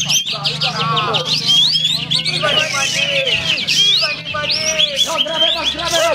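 A kapas tembak songbird sings continuously at a bird-song contest, pouring out loud, rapid whistles and trills close by, while other birds and a commentator's voice carry on underneath.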